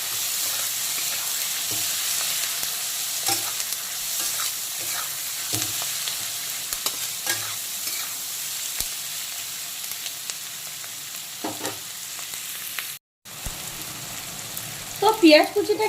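Chopped onion fries in oil in a pan for a fish curry with bottle gourd, a continuous close hiss and sizzle broken by occasional stirring scrapes and taps, with a brief cut near the end.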